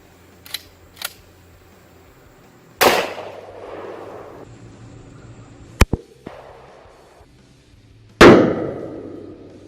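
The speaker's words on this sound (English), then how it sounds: "First shot is with this Coonan 357 Magnum with the 150 grain bullet." Coonan .357 Magnum pistol fired with a 150 grain bullet into a stack of paper plates outdoors: a few faint clicks, then sharp loud bangs with ringing decay, one brief crack, and a final heavy report.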